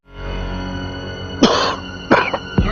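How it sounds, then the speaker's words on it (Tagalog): Several harsh coughs heard in a Filipino cough medicine commercial for phlegmy chest cough, three separate bursts following a steady quiet background, close and fairly loud. "Pag ang ubo mo may kasama ng madikit na plema, feeling mo nakabara na."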